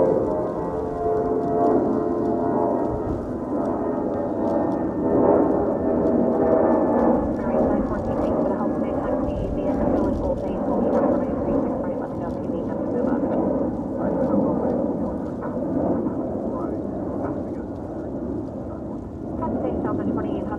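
A Spirit Airlines jet departs DFW airport in Texas, giving a loud, steady, broad rumble of engine roar that fills the whole stretch with little change in level.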